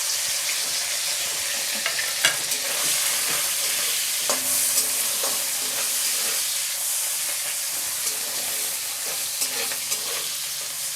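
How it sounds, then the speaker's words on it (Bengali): Dried Bombay duck fish frying in oil in a wok, a steady loud sizzle and hiss throughout with occasional sharp pops and stirring clatter, no talk. "কড়াইতে আরেকটু তেল দিয়ে এবার মাছটাও ভেজে তুলব।"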